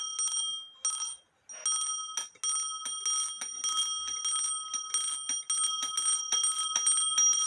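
The alarm gong on a postman's clock strikes its bell in a rapid continuous ringing trill, with brief pauses near the start, heard close up and alone.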